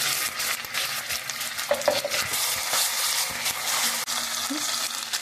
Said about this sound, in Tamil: பச்சை மிளகா உங்களுக்கு காரத்துக்கு ஏற்ற மாதிரி சாட் பண்ணிவிட்டு கொஞ்சம் ஜிஞ்சர் garlic பேஸ்ட் போட்டுக்கோங்க